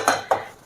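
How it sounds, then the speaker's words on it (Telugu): Two quick scraping clinks of a spoon against a pan, about a quarter second apart, as prawn shells are stirred while dry-roasting over a low flame for spicy prawn powder. "సో ఇలా కలుపుతూ లో ఫ్లేమ్లో బాగా డ్రైగా రోస్ట్ చేయాలి"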